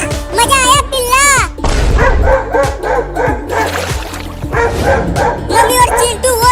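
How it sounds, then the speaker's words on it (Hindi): Cartoon dogs chasing a cat, with loud, close yips and barks bursting in quick runs amid busy animated sound effects and voices. "वो दोनों कुत्ते उस बिल्ली को पकड़ने की कोशिश कर रहे हैं।"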